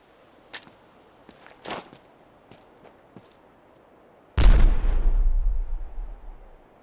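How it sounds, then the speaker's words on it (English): A shotgun fires once in the video game Fallout 4: a single loud, close blast with a long rumbling tail, preceded by a few faint clicks and light footstep-like taps. "I've got a goddamn shotgun here."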